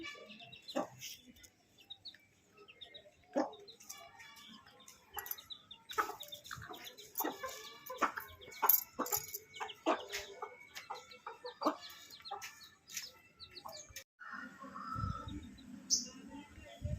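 Several chickens cluck and squawk close by in irregular bursts, with occasional chirps from other birds.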